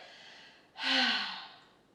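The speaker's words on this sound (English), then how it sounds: "Take a deep inhale and loudly exhale." A deep breath in through the nose followed by a loud, forceful exhale through the mouth during a relaxing full-body flow session, the single breath swelling and then fading away close up.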